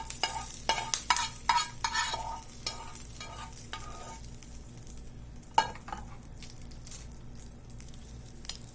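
A curry leaf and chilli tempering is stirred into coconut chutney, with a spoon scraping and clinking against the pan and a soft sizzle. The scrapes come in a rapid cluster early on, then one sharp clink and quieter stirring, all close, with no talk.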